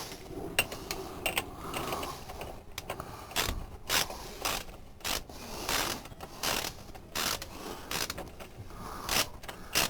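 A socket ratchet clicks in short bursts while working on a motorcycle chain during link removal, quick metallic ratcheting strokes repeated irregularly with pauses between them, close and fairly faint.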